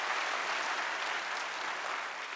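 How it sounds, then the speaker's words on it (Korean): An audience applauds together in a church testimony gathering, offering thanks to God; dense, steady clapping from the crowd holds for the whole stretch at a fairly soft level, with no voices over it. "다 같이 박수"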